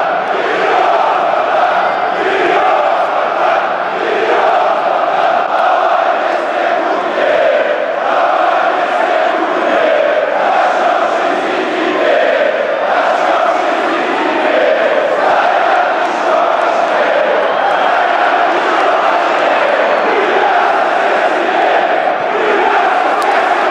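A packed away section of red-and-white football fans at a stadium in Kazan chants "Znaesh li ty" in unison, a loud, sustained, rhythmic mass of voices rising and falling across the stands.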